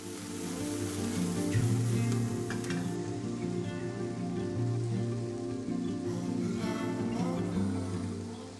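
Garlic and bean sprouts sauté in a hot pan for a chow mein, giving a steady rain-like sizzle that runs throughout beneath background music.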